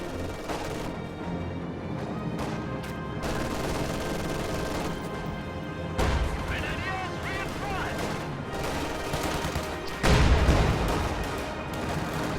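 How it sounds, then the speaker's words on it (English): A light artillery barrage in a World War II strategy game lands as a run of thuds and crackling bursts, with heavier impacts near the middle and the end, under steady talk and background music. "Light artillery barrage at your command."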